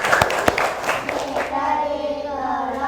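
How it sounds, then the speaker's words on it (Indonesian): Students in a classroom give a short round of applause, a handful of distinct claps at the start before fading, with children's voices chattering and continuing over the end. "Yuk tepuk tangan."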